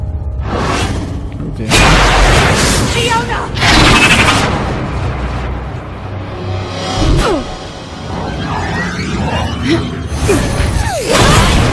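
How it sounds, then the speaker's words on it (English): Rocket launcher fire in Tales From The Borderlands, loud whooshing bursts and booming blasts repeating through the scene, mixed with crashing impacts and action effects. "A big rocket launcher."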